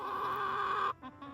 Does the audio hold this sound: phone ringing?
no